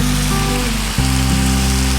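Bulgogi beef stir-frying over high heat in a hot pan, a dense, steady sizzle close up with a low hum underneath, briefly dipping for a moment before resuming.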